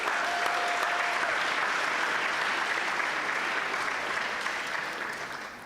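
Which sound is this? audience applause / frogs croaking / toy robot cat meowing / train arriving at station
audience applause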